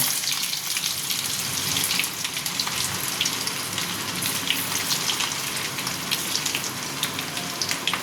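Chopped ginger and garlic sizzle and crackle in hot oil in a pan for chili chicken, a steady close hiss with dense pops running throughout, no voices.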